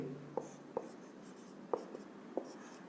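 Pen or marker writing a chemical equation for calcium carbonate decomposition on a board in a chemistry lesson, heard as a few sharp taps and short strokes spaced apart against a quiet room background.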